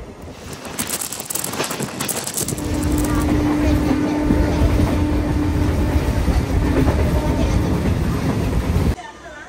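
A MEMU express train runs along the Kakinada Port to Visakhapatnam line, its carriage rumbling steadily with rhythmic wheel clatter and a sustained mechanical hum, loud and close from on board.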